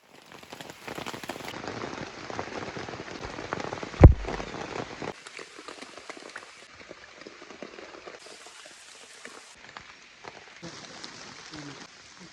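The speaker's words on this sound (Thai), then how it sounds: "ฝนก็ยังตกมาเรื่อยๆ เลยนะครับ" Steady rain patters down in a Thai forest, a dense hiss of drops on surfaces, with one sharp knock partway through before the downpour thins slightly and carries on.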